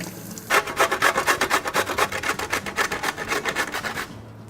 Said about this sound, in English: we're going to grate down 450 grams of beetroot